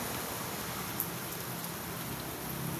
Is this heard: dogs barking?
no